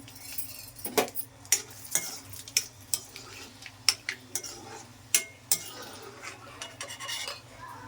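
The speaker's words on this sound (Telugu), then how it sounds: "ఇప్పుడైతే ఒక పది ఎండు మిరపకాయలు అయితే వేసుకుందామండి ఆయిల్లో" Dry red chillies fry in peanut oil in a pan with a soft continuous sizzle, broken by irregular sharp clinks and scrapes of a utensil stirring against the metal, fairly quiet and close.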